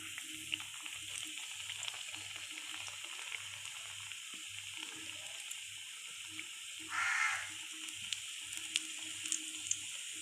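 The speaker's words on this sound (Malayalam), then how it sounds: "ഇനി പനിക്കുറുക്ക കടലമാവിൽ മുക്കി എണ്ണയിൽ ഇട്ട് വറുത്ത് കോരാം" Indian borage leaves coated in gram flour batter deep-frying in hot oil, a steady fine crackling sizzle close by, with a low rhythmic background hum and a brief louder hiss midway.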